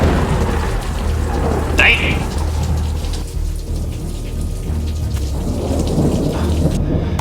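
Thunderstorm with heavy rain drumming on a metal roof and deep rolling thunder, loud and constant throughout, with a brief voice heard over the downpour.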